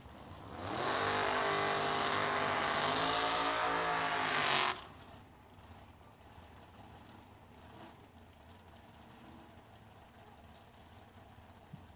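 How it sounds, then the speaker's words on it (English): A 1955 Chevy with a chopped top and a 638 cubic inch engine roars loudly for several seconds with a dense, rumbling exhaust, then cuts off sharply, leaving faint distant background noise. "Dave Edwards, 55 Chevy, 638 cubic inches under that hood"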